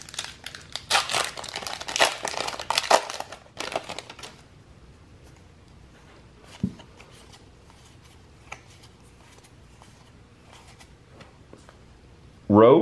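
MetaZoo Wilderness booster pack wrappers crinkle and tear loudly up close in dense bursts, then quieter card shuffling and light handling clicks follow, with a sharp rustle at the end.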